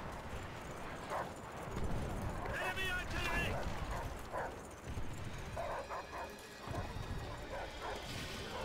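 Attack dogs barking in the Call of Duty World at War multiplayer game, repeated sharp barks and yelps mixed with gunfire-like clatter and in-game voices, moderately loud amid busy battle noise.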